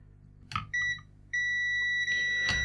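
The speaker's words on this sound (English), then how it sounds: "So that's beeping on continuity" A multimeter on continuity test sounds a steady electronic beep, with short chirps first and then a sustained tone, heard close and alone over faint background noise.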